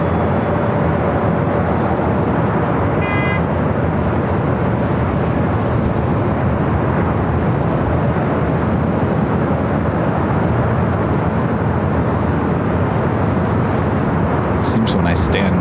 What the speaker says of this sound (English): China Airlines to A350-900. Flight coming in from Taipei.